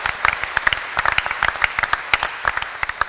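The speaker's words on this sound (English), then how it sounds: "Ken, a round of applause." An audience claps in a steady burst of applause, many hands patting at once with distinct sharp claps standing out, loud and continuous from start to finish.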